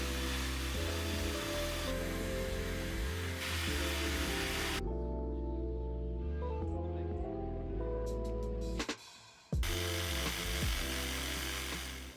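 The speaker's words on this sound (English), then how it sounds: "I now need to use a jigsaw on the melamine" A jigsaw cuts melamine board in a cold garage, a loud, buzzing rasp that runs steadily, stops briefly midway, then resumes.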